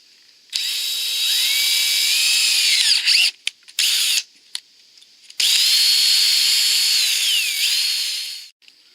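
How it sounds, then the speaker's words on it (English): A power drill with an 1/8 inch bit bores into a storm door, two sustained high whining runs separated by a short burst of brief stop-start pulses, close and loud. "I'm going to drill with an 1/8 inch drill bit right there."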